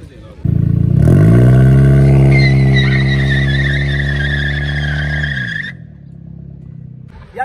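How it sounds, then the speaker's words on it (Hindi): An automatic Honda City with a straight-pipe exhaust does a burnout, its engine revving hard and tyres squealing loudly in a sustained, close skid that fades after several seconds. "अब ना बर्नआउट करने लगे हैं गाड़ी का, ऑटो गाड़ी है, होंडा सिटी है"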